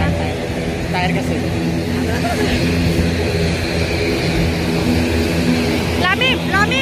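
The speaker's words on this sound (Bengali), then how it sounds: "এই বিমানে এত শব্দ কেন?" Steady, loud engine roar fills an airliner cabin on a short domestic flight from Dhaka to Cox's Bazar, a constant drone throughout, with a voice and chatter rising briefly over it.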